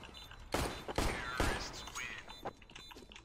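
Gunfire in the competitive shooter CS:GO: several sharp shots, with loud bursts near 0.5, 1.0 and 1.4 seconds followed by lighter shots. Faint background game noise runs under them and no one speaks.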